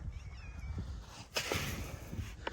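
A farm cat meows a few times, soft and somewhat distant, over faint outdoor background noise with a brief sharp rustle partway through.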